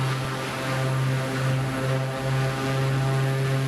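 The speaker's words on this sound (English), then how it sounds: "I don't think I've ever flown a PC-6 before." A Pilatus PC-6 propeller aircraft engine in a flight simulator, a steady loud droning hum with a strong low buzz and even harmonic tones, holding constant with slight swells in power.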